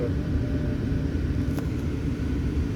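Inside a Land Rover Evoque in drive mode with the air conditioning off, a steady, low road-and-engine rumble fills the cabin at moderate level, continuous and even throughout.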